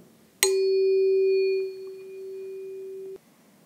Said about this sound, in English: that was the sound of the tuning fork being struck and then moving away